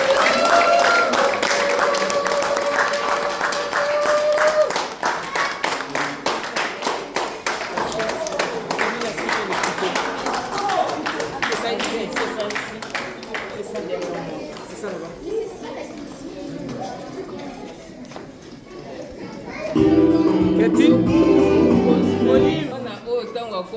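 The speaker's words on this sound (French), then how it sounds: "si on peut nous applaudir pour ces réussites, ça sera quelque chose de formidable" A graduation audience applauds with steady clapping throughout, loud and dense, while a voice speaks over it and a louder swell of clapping comes near the end.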